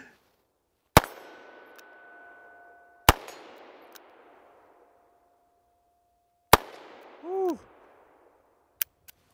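Three sharp, loud gunshots from a new Ruger Super Redhawk revolver chambered in 22 Hornet, each with a ringing metallic tail, spaced a couple of seconds apart, followed by a short whooshing sweep and two small clicks.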